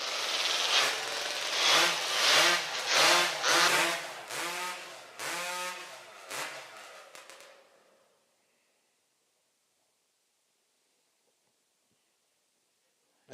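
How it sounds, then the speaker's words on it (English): Racing chainsaw engines warm up at a STIHL Timbersports Nordic Pro Championship, several saws revving in rapid, rising bursts for about eight seconds before cutting off into near silence. "Make sure that carbon's blown out and the engine is ready to go."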